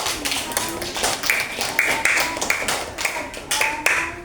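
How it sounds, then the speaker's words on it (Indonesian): Scattered hand clapping from a small group in a classroom-style coaching session, irregular and close, with sharp individual claps and a faint tone in the background. "Kasih tepuk tangan buat gugur dulu"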